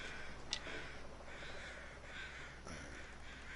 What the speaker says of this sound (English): It's a lot of crows.